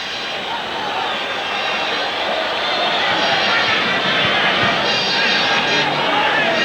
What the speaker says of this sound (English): The equalising goal has certainly lifted the crowd here.